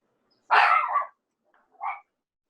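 A real dog barks once loudly nearby, then gives a shorter, softer second bark after a pause, against silence.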